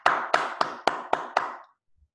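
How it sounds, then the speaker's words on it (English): Six sharp, evenly spaced claps ring out for a participant at a forex basics class, crisp and close, then fade to silence. "Clap for him, guys. Clap for him."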